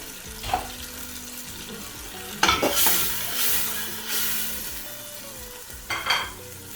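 Pepper cooks in a pot for Nigerian egusi soup, a steady sizzle and bubbling with a spoon scraping and stirring now and then, close and fairly loud, no voices.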